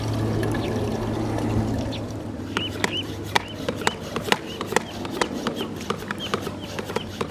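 A quart of grass paint concentrate poured into a pre-filled 2.5 gallon sprayer, a steady glugging pour with faint trickles, followed by close, irregular liquid splashes and knocks.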